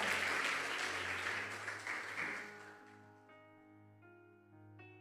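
A church congregation applauds loudly for nearly three seconds, the clapping fading out as sustained keyboard chords continue underneath and ring on alone.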